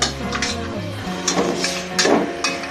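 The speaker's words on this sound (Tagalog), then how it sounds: "Halo-haloin po natin ito." Metal utensil stirring sinigang ingredients in a cooking pot, scraping and a few distinct clinks against the pot over a steady low hum.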